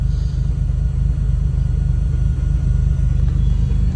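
A turbocharged Acura Legend sits idling, its engine giving a steady, loud low rumble with a fast regular pulse that holds even throughout, with no voices over it.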